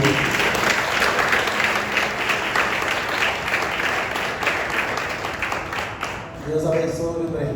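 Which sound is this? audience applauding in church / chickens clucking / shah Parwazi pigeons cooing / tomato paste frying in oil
audience applauding in church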